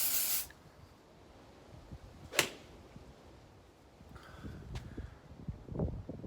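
An aerosol can sprays a short, sharp hiss onto a golf club face, opening with a brief burst followed by a second quick spray a couple of seconds later, set against quiet rustling outdoor background.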